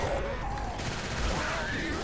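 Rapid gunfire crackles in a Left 4 Dead 2 custom versus match, short bursts set against a busy game-sound backdrop, fairly quiet overall.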